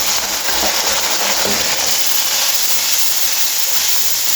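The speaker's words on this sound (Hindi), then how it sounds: "इसको अच्छी तरह भून लेना।" Loud, steady hiss of spices, red chilli, turmeric, salt and fennel seeds frying in hot oil for vegetable kadhi, a continuous close sizzle with no talking.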